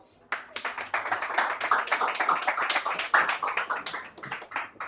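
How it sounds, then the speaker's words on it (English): Audience clapping for a guest speaker at an in-person fixed income investment event breaks out after a brief quiet moment, then continues as close, crisp, irregular hand claps from a modest crowd, fairly loud and without speech. "So let's give him a round of applause."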